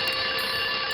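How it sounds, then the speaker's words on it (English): A toy alarm clock rings continuously, a loud, bright, unbroken bell-like jangle that holds steady throughout. "An alarm clock? That's a great idea."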